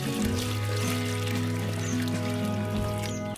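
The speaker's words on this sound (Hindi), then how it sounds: "तो चले अभी हम पौधों को पानी देते हैं जो बाकी रहते हैं।" Water poured onto potted plants in a budgie cage area, a steady splashing trickle lasting a few seconds, close and moderately loud, with a low hum and music-like tones underneath.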